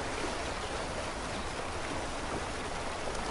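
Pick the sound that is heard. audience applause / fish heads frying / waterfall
waterfall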